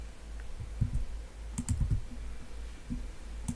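A computer keyboard is tapped in scattered soft clicks and short bursts, close and quiet with no voices.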